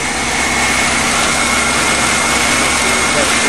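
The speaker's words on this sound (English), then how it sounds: "Wow, that's a sweet sounding motor." An old Chevy car engine, which had sat unused for about a year, idling steadily with a smooth, even rumble, loud and close, with talk over it.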